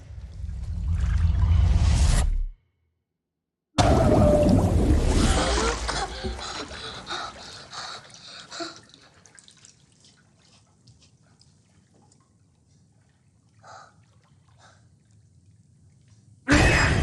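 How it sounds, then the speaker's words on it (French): Water rinsing, opening with a loud rushing pour, a brief gap, then another strong gush that fades into scattered drips and trickles, with no voices. "Rinçage."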